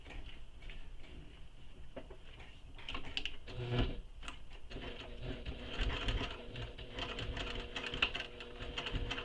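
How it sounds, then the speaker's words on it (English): A sewing machine labours through thick layers of bulky fabric, a quiet, uneven mechanical patter of needle strokes that grows denser and more strained partway through, with no talk. "my machine's kind of giving me that noise telling me there's a lot of bulk there"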